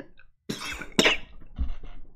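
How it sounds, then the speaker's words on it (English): A man coughs two or three times in short, sharp bursts, close and fairly loud, with brief pauses between them. "I just had to cough a little bit"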